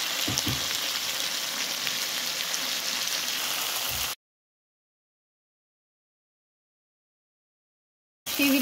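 Chopped olives sizzle in a hot pan with a dense, crackling hiss for about four seconds, then the sound cuts to silence before a brief return at the end.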